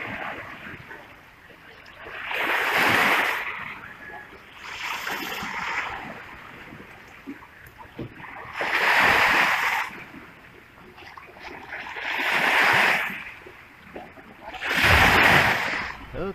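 Ocean waves roll in at a waterfront in the Philippines, five surging crashes arriving every few seconds with a hissing wash between them, close and fairly loud against wind.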